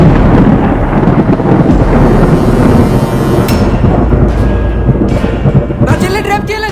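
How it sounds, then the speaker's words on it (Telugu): Heavy rain pours down in a steady, dense roar that fills the whole stretch, with a few sharp knocks and a brief clatter near the end rising above it. "ఎంత గట్టిగా వర్షం పడుతుంది ఎట్రా?"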